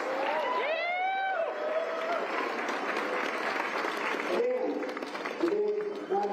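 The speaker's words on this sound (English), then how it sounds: "Let's give them a really big round of applause, please." Crowd applause at the start of the Broken Arrow Skyrace 23K mountain running World Cup race, a steady loud wash of clapping with voices and cheers mixed in throughout.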